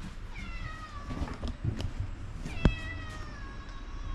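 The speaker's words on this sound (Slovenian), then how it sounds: "O, sosedov maček, fajn." A neighbour's cat meows several times in a van, with drawn-out harmonic cries spread across the clip and a sharp bump partway through, heard close and fairly clear against low background rumble.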